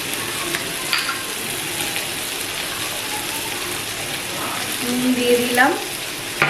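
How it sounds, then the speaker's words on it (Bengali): Onions frying with tomato, turmeric and salt are stirred in a pan, giving a steady close sizzle with scraping clicks of the spoon. A voice speaks briefly at the start. "দিয়ে এবার এটাকে একটু নাড়িয়ে নেব"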